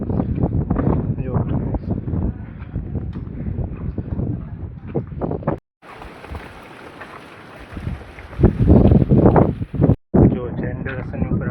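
Gusty wind on Girnar mountain in monsoon cloud, buffeting the microphone as a broad rumbling roar, mixed with speech for most of the stretch and surging loudest near the end.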